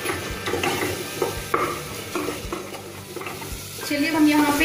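Onion and tomato paste frying in a pan, a steady loud sizzle with repeated scraping and stirring strokes of a spoon throughout, no talk.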